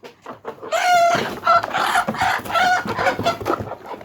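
Chickens cluck and squawk close by in a henhouse at closing time, several birds calling in overlapping bursts with a rooster among them.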